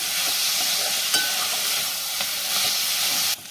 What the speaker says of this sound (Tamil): வதக்கிறது நல்லா பொறுமையாக வதக்கணும்.